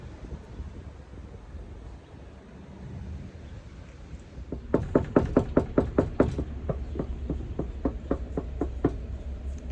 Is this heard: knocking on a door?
yes